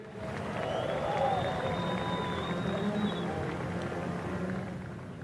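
A crowd at a Formula Drift ProSpec top 16 round in Indianapolis cheers and applauds for a drift driver, a steady roar of clapping and shouting at moderate distance with an engine whine rising briefly and a voice faintly underneath.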